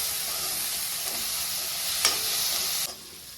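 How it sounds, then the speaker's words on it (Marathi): Tomatoes frying in a pan while making a dry chicken masala, a constant close hissing sizzle from their moisture, with one stirring scrape near the middle before the sound abruptly drops. "आता ह्या जे टमाट्यात पाणी असते त्याच्यामुळं आवाज येतो"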